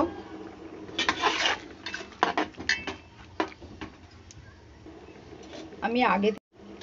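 A spoon stirs partly cooked, salted rice in a metal pot for beef biryani, giving intermittent scraping and clinking strokes close by, with a voice at times.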